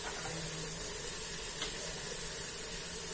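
A steady, broadband hiss of escaping steam from a pressure cooker holds evenly for the few seconds heard, with no clear whistle or talking.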